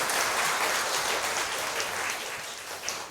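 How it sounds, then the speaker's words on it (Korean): Congregation at a Korean memorial service for a pastor applauds steadily, a dense, sustained clapping that fills the space and fades slightly toward the end, with no talking over it. "박수 칠 타이밍을 놓치신 것 같은데 박수 한번,"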